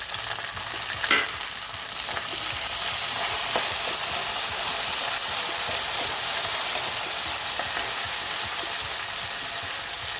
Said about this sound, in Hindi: उनको बहुत बारीक हमने काट लिया, इसको हम ऐड करेंगे और इसे अच्छे से कुक करेंगे हम लोग